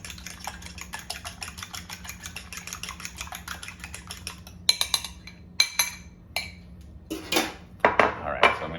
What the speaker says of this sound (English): we're going to whisk them because we're using them as our help to bind for the breading